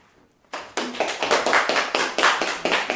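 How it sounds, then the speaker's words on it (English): Live studio audience applause in Angie's studio after a performance, starting abruptly after a quiet half second and continuing as steady, fairly close clapping to the end. "Applause from the actual studio audience, live in Angie's studio"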